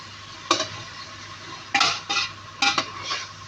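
Food being mixed in a pan with a utensil, scraping and clattering in several short bursts that come in small pairs, close and fairly loud with a low hum beneath and no talking.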